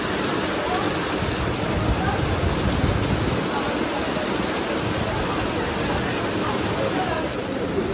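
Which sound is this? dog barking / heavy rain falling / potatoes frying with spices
heavy rain falling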